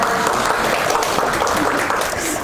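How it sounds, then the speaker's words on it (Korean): An audience at a Buddhist dharma talk claps loudly and continuously, a dense close wash of hands throughout with no speech over it. "야간반 박수를 잘 치대요."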